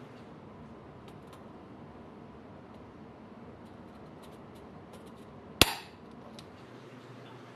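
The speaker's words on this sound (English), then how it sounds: "You just push it in and it pops and makes a hole so your drill doesn't walk around." A single sharp pop from an automatic center punch marking a hole in metal before drilling, one brief transient standing out over a low steady background hum.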